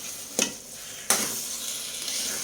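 A sticky sweet snack mixture is stirred in a hot pan, with a steady sizzle under two sharp scrapes of the spoon against the pan.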